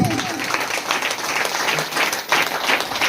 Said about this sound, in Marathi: जोरदार टाळ्या द्यायचा आहे